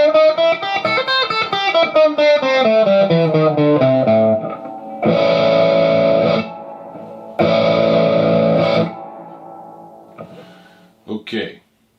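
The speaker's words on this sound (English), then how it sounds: "That's the British Crunchy Crunch." Electric guitar played through a Positive Grid Spark amp on a British crunch preset with drive, noise gate and reverb, a crunchy distorted run of notes followed by two sustained strummed chords, each ringing then cut sharply.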